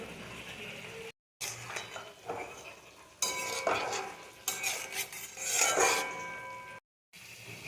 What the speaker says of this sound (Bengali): এখন আমি ডিমগুলো ছেড়ে দিলাম, দিয়ে দিলাম।